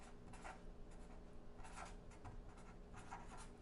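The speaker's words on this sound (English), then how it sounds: "So I'm just going to write corresponding" Marker or chalk strokes scratch across a classroom board in short bursts, quiet and close, with brief pauses between words being written.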